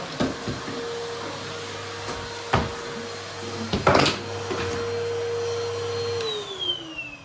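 Household vacuum cleaner runs with a steady close drone and a constant hum, broken by a few knocks and bumps against the floor and furniture before the motor winds down near the end.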